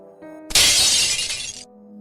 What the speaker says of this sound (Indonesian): Terdengar suara piring pecah dari arah dapur